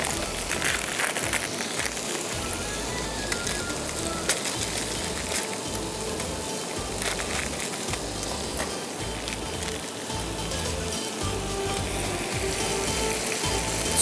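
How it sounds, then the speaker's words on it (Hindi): Spices and ginger powder fry for a mutton handi, making a dense, continuous, close sizzle that holds at an even level throughout, with faint scattered crackles. "मसालों को अच्छी तरह भूनिए"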